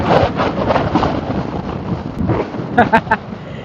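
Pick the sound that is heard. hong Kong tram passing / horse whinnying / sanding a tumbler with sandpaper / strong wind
strong wind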